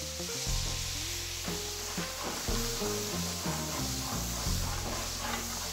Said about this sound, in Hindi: घी गर्म होने के बाद उसमें शामिल करेंगे